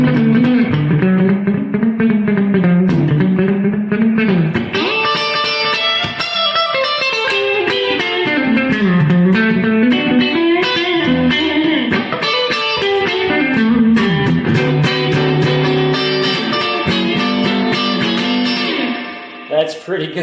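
An electric guitar played through a Quilter Aviator Cub amp with heavy reverb rings out in sustained, loud melodic lines and chords for a long stretch.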